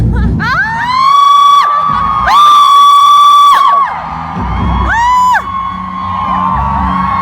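Concert crowd at a show in Gwangju cheering in long, loud, high-pitched shrieks, several sustained bursts that rise and fall with brief gaps between them.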